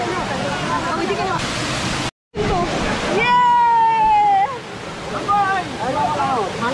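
Bamni Falls in the Ayodhya Hills of Purulia, where people bathe in the pool, gives a steady broad roar of falling water under a prominent voice and tonal, sung-sounding calls in the foreground.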